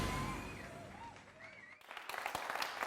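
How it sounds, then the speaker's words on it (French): An event crowd breaks into applause after a stretch of music and tones, the clapping starting suddenly partway through as a dense, fairly close patter with a few sharper individual claps. "Merci de faire beaucoup d'applaudissements"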